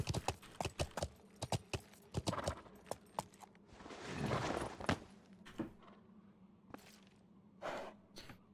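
Horse hooves in a video game clip-clop in quick irregular beats, with a brief rustling whoosh midway and a few scattered hoof knocks trailing off afterward.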